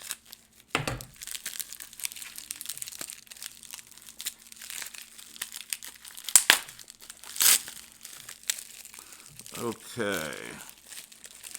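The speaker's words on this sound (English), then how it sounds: "let's get the tape cut off of this one" Tape being cut and peeled off a knife package, heard as close crinkling, tearing and scratchy rustling bursts, with a few louder rips, as someone briefly speaks.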